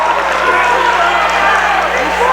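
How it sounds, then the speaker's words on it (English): A loud, sustained roar from the crowd in a gym at a Portland High varsity boys' basketball game against Windham as fans protest a referee's call; the noise stays heavy and constant throughout. "Portland crowd, I think, righteously protests there"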